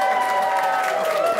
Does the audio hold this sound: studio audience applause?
yes